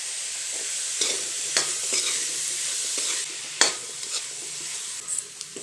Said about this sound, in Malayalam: അങ്ങനെ നമ്മുടെ സവാളയെല്ലാം നല്ലൊരു വഴറ്റി കിട്ടിയിട്ടുണ്ട്